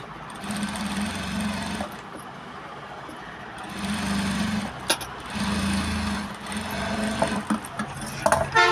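A sewing machine runs a second line of stitching over fabric piping in bursts of steady motor whir, stopping and restarting several times, close and fairly loud with no talk.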